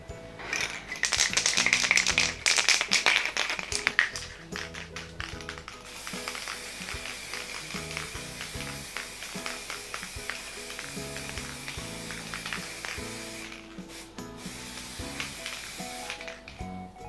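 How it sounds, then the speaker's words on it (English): Gold spray paint hisses from an aerosol can over an acrylic pour swipe painting, a close, steady spray loudest in the first few seconds, then continuing under tapping and rattling handling sounds. "let's use the gold spray paint"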